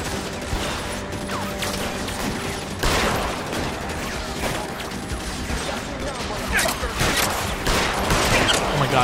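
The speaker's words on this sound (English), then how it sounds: "that guy can shoot me and I can't see him" Gunfire in the L.A. Noire video game, a rapid crackling fusillade of shots with mechanical clatter, loud and dense over a steady game soundscape, with talk mixed in.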